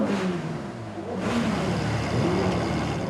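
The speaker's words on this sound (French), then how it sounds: "Les copains de leur club automobile font retentir leurs moteurs pour les accompagner une dernière fois." At a funeral, car club members rev their engines in a loud, close chorus of surging, overlapping revs that swell twice.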